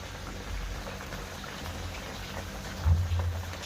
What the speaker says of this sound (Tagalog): Kumukulo-kulo.